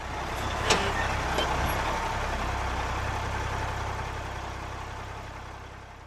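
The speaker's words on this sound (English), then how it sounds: "Then the bus came," A bus engine rumbles steadily at a low pitch, idling close by with an even drone and a couple of brief high clicks near the start.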